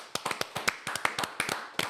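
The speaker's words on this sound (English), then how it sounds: "clap it up for Michael Quick" A small group of people claps for podcast guest Michael Quick, a dozen or so close, sharp, uneven claps in quick succession, with no talking.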